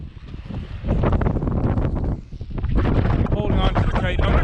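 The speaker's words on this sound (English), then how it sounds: "Okay, big gust coming." Strong wind gusts roar across the microphone while a kite is flown outdoors, a steady heavy rush that surges louder after a brief lull, with a voice speaking partway through.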